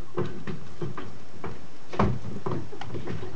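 A door closes on a stage during an amateur theatre play, a solid thud standing out midway above a steady background of shuffling and clatter, with no speech.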